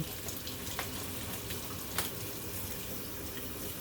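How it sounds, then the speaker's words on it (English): Tap water running steadily over vegetables being rinsed in a kitchen sink, a soft continuous hiss with faint splashes. "And I like to rinse it off thoroughly."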